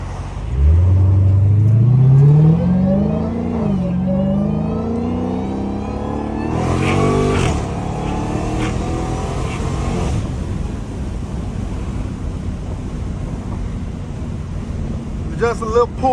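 Dodge SRT Hellcat accelerating hard, a loud engine roar rising sharply in pitch through the gears before easing off into steady road and wind noise, with brief gusts buffeting the microphone.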